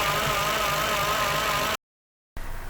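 A car engine with a dirty idle air control valve idles roughly with a steady low drone, then cuts to complete silence for half a second before resuming.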